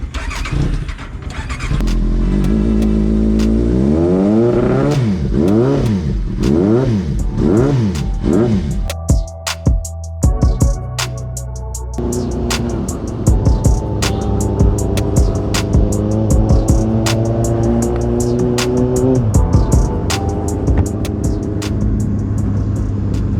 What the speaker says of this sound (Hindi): तब तक एक बार कोल्ड स्टार्ट कर लेते हैं